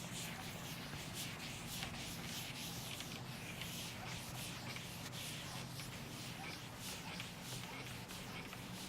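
A classroom board is rubbed clean in a continuous scrubbing, shuffling wipe, moderately close and steady over several seconds, with no talking.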